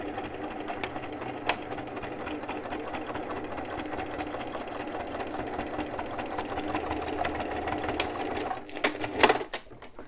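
A sewing machine runs a steady, rapid stitching chatter while topstitching 2 mm from the edge of a bum bag with the lining pushed apart, then stops near the end with a few clunks from handling.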